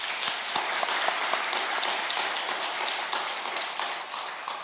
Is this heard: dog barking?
no